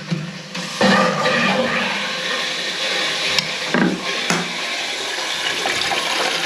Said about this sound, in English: just hold open the flush to fill the pan up